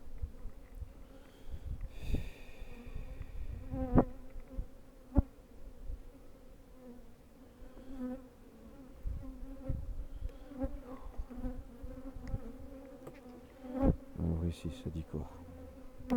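Bees and a wasp buzz around an open hive, a steady droning hum with louder passes coming near, while a person speaks French briefly partway through.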